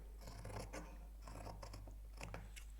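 Scissors snip through fabric while a headband strip is being cut out, several crisp cutting strokes in short clusters, close and quiet over a steady low hum.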